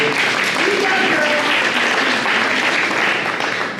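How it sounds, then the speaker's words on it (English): Loud, dense audience applause fills the room at a talk about parenting, a continuous wash of many clapping hands with no pauses. "Give her a hand clap."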